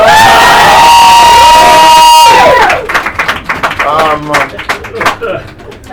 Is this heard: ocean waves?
no